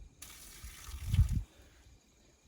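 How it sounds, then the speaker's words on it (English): Water is poured out of a container during a soil-formation demonstration with rocks, a brief gurgling splash building over about half a second before cutting off, fairly faint against a quiet room. "I'm going to pour out a little bit of the water"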